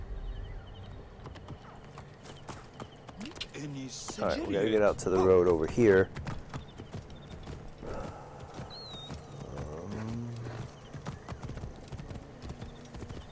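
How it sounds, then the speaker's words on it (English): Horse hooves clip-clop steadily in the Assassin's Creed Origins game, with a brief whinny and mechanical clicks, as someone talks over the hoofbeats. "Horse."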